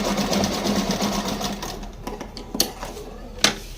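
A sewing machine stitches a pattern along the bottom of palazzo pants. It runs with a steady close whir for under two seconds, then stops, leaving a few sharp clicks and handling noises.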